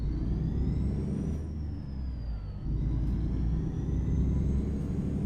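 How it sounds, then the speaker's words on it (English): Truck engine in American Truck Simulator, a heavy diesel rumbling steadily and loud throughout, with a faint whine that rises and falls as the revs change and no talk over it. "like the sound of this engine fits in a more classic style truck better than this truck."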